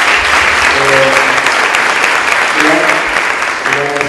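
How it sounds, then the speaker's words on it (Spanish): A strong burst of applause fills a hall at a journalists' day panel, loud and sustained throughout, with a few brief voices and tones cutting through the dense clapping. "te despedimos con un fuerte aplauso"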